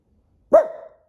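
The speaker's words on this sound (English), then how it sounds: "What are we barking at now?" A single sharp dog bark rings out close by in an otherwise quiet indoor room, brief and clear with a short tail.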